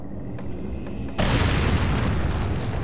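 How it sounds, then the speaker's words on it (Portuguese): A grenade detonates in Resident Evil 4, a sudden loud explosive boom that bursts in after a quieter stretch and rolls on as a dense, sustained roar. "E agora, mais uma granadinha explosiva aí."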